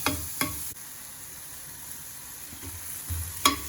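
Diced tomato sautéing in a pan, a soft steady sizzle with a few brief stirring scrapes and clinks, close and fairly quiet.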